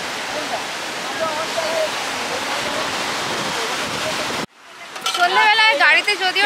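Steady broadband roar of sea breeze and surf at Digha beach in the evening fills the first four seconds, then cuts off as a voice starts talking.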